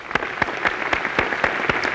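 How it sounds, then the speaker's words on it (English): A commencement audience applauds graduating seniors receiving academic honors, with distinct sharp claps standing out at a fairly regular pace over a softer wash of clapping. "let's enthusiastically applaud all of the seniors who are receiving academic honors"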